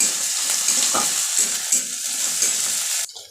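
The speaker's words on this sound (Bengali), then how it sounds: "তেল গরম হয়ে গেছে। এবার এতে দিয়ে দেবো পাঁচফোড়ন, তারপরে রসুন কুচি, পেঁয়াজ, কাঁচা লঙ্কা কুচি" Five-spice, chopped garlic, onion and green chili hit hot oil in a pan with a loud, dense sizzle that holds steady for about three seconds, then cuts off abruptly. There is no talk.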